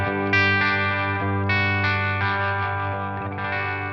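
Electric guitar on the bridge pickup through a ToneX capture of a Victory amp on its first channel at lowest gain, sustained chords ringing fairly clean with a slightly edgy bite, loud and close with no talking.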